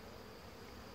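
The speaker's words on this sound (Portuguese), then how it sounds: "O enxame já está a trabalhar aqui, estão a bater as asas" A honeybee swarm settling into a new hive with fresh comb keeps up a steady, dense hum of beating wings, close and even throughout with no pauses.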